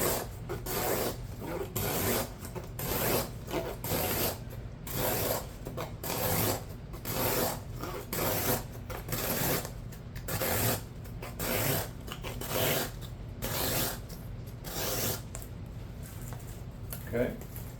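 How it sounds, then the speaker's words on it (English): Gerber Air Ranger knife with a 7Cr17MoV blade push cutting through material in an edge retention test, giving repeated rasping, rubbing strokes at a steady rhythm, close and fairly loud, with someone talking over it. "I'm pretty much just push cutting, so I'm really wearing on one specific spot of that blade very heavily."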